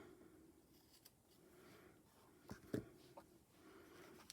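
Quiet, close snips of decorative scissors cutting paper, a few crisp clicks and rustles spaced unevenly over a faint background hum.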